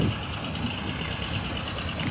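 An Escort 335 tractor in the 35 hp class hauls a trailer loaded with about 50 quintals of wheat, its engine giving a close, steady low rumble with no pauses.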